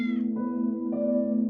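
A house cat meows loudly and close, giving two drawn-out harmonic cries, the second rising in pitch, with no talk around them.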